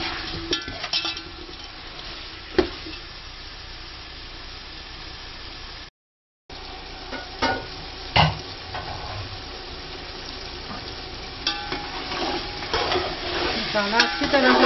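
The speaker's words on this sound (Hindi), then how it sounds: "अब इनको अच्छी तरह से भूनें।" Potato cubes fry and are stirred in masala for Pakistani chicken biryani, with a steady sizzle broken by repeated spatula scrapes and clanks against the pan, close and growing louder toward the end.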